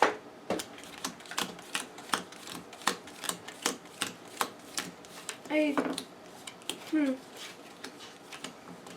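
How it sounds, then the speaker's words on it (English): Playing cards for a board game being riffled and shuffled by hand, a close, crisp series of sharp regular flicks and slaps about twice a second, with a few brief voice sounds in between. "Shuffle my cards real quick so I'm ready for next time"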